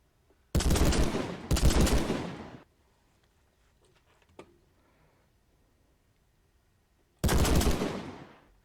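Automatic gunfire in a modded Minecraft game, fired with recoil: two loud, close bursts of rapid shots back to back, a quiet pause, then a third burst.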